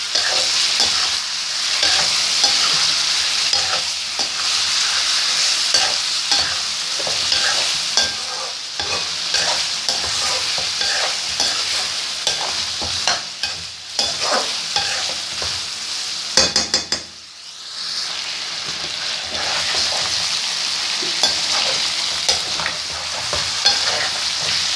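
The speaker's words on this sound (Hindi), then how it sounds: "कलर आने तक इसको अच्छी तरह इसमें भूनेंगे" Garlic ginger paste frying in oil in a pan while being stirred, a continuous close sizzle with scraping and stirring noises and a brief dip near the end.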